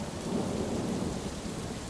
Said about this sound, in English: I drag myself through the rain.